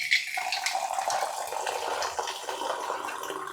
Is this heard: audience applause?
no